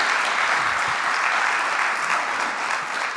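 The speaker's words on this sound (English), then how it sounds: "if we can get a big round of applause for Ben right here" Steady, full audience applause at a tech conference session, a dense wash of many hands clapping at an even level throughout with no pauses.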